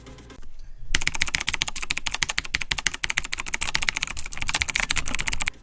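Rapid clicky typing on a Razer Blackwidow Chroma mechanical keyboard with Razer green switches, a steady close stream of sharp keystrokes after a brief quiet start.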